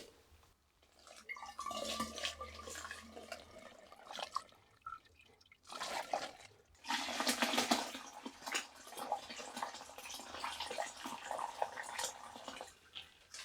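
Sweet potato ale pours and trickles through a strainer in uneven splashing bursts with a brief pause midway, close by and fairly quiet, with no talking.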